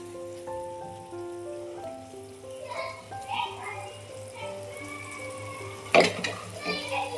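Soaked basmati rice tipped into hot oil for paneer veg pulao, a soft crackling sizzle that swells into a sharp burst near the end, heard under a speaking voice and steady background tones.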